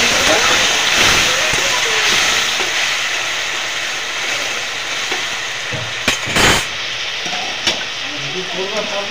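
Water poured into a pan of frying bitter gourd curry with potato and lentil dumplings sets off a loud, steady sizzling hiss, with a few sharper bursts near the end.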